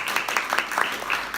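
Audience applause at a talk on mysticism and silence, a brief, moderately loud patter of hands clapping across the room.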